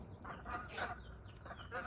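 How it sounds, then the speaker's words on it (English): Ducks quacking outdoors during an interview, a few faint, nasal honking calls in quick succession, somewhat distant and low in level. "Now the ducks want to join the video"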